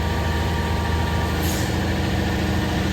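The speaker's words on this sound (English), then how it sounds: "they have to do it with this pump truck" A concrete pump truck runs loud and steady while pouring footings for a shop build, its heavy engine droning continuously with a brief hiss partway through.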